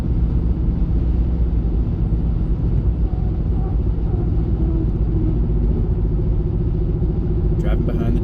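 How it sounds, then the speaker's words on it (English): Steady low road rumble from a car driving behind trucks, a continuous droning hum with no breaks, loud and close throughout. "Driving behind the trucks."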